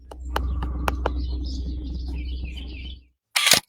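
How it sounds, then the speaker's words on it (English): Birds chirp and tweet in quick bursts over a steady low hum, then a brief burst of broadband noise near the end. "Beyond the birds chirping, you can hear the same hum in the background."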